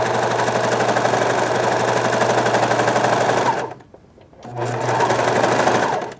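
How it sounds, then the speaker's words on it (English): A domestic sewing machine stitches through layers of fabric for a color block top, running in a steady rapid mechanical whir that stops briefly midway, then starts again, loud and close with no talking. "I'm actually holding the top layer of my fabric while I'm sewing"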